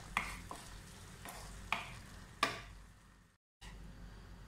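Masala for butter chicken sautéing in a pan, a quiet low sizzle with a few sharp spoon clinks against the pan and a brief moment of silence near the end.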